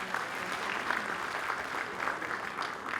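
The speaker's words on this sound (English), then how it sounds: "So a round of applause for each one of you." Moderate applause from a congress audience, a continuous even patter of many hands clapping at a middle distance, fairly soft and unbroken throughout.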